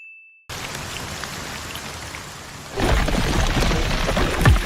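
Steady rain in a stormy anime film scene, a dense hiss of drops that swells into a heavier, louder downpour partway through, with no voices.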